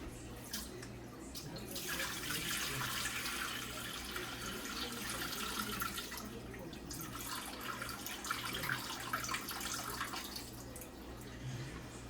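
Tap water running steadily into a pot while rice is rinsed, a continuous splashing rush with brief swells, close by and fairly quiet, with a faint low hum underneath.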